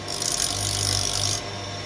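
Power tool buffing and deburring the edges of metal in a workshop, a continuous abrasive whirring grind held for about a second and a half before the contact eases off into a lighter motor hum.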